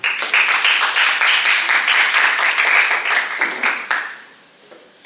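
Audience applause at a high school Malay-language speech contest, a loud dense wave of clapping that holds steady for about four seconds, then fades away into quiet at the end.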